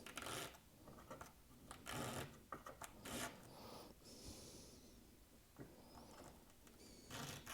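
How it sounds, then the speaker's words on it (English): Sandpaper rasps along the bottom edge of a replacement nut on a Gibson Studio guitar. Several short, faint scraping strokes come in uneven bursts, close up and quiet, with no talk. "I'm just going to sand that bottom edge just a hair"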